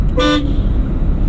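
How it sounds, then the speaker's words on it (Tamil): A single short car horn toot, loud and close, over steady engine and road rumble. "ஹார்ன் அடிச்சுக்கங்க"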